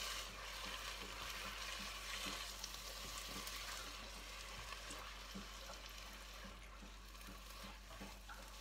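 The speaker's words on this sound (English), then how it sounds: "I'm going to add in the tomatoes as well and start to stir that through" Tomatoes are stirred through zucchini pesto pasta in a pan, a steady soft sizzle with faint scraping stir strokes running throughout at low level, no voices.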